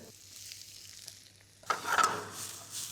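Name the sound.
sliced onions frying in oil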